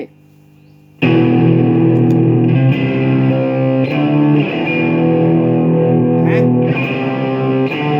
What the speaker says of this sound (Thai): นี่เสียงแตกจากเอฟเฟกนะ จากเจ้าสตอมแลบตัวนี้